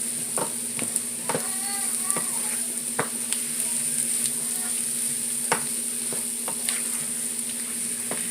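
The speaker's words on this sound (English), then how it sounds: "we're going to stir this for about a good minute or so, just so that we can cook off some of the raw flour taste" A spoon stirs flour into green beans in a gravy-thickening pan, with a continuous frying hiss and regular sharp scrapes against the pan, plus a faint steady hum in the background and no voices.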